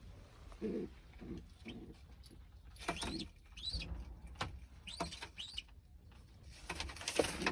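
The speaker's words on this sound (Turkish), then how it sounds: "kula yavrumuz daha ötüyor cizik cizik" Faint high chirps from a young game bird chick come in short, scattered bursts over a low background rumble, with some wing flutters and soft thumps.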